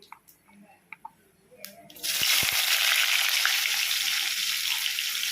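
Sliced onions dropped into hot oil in a pan for a prawn curry with country vegetables: a few soft clicks and taps, then a sudden loud, steady sizzle that continues close up.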